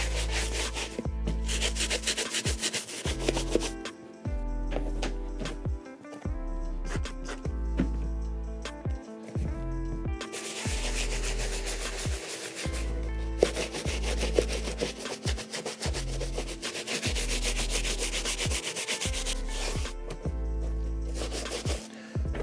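A brush works foam cleaner over a leather sneaker in small circular motions, giving a run of rhythmic, loud scrubbing strokes with brief pauses between bursts and no voices.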